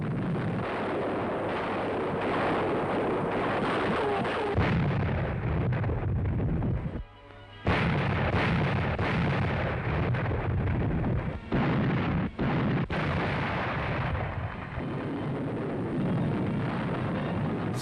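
Heavy naval guns of an Allied fleet off the Salerno beaches boom in dense, rolling artillery fire, loud and continuous with sharper bursts, in a wartime recording.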